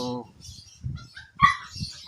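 A few short barks and yips from a small dog, close by, with a brief whimper between them.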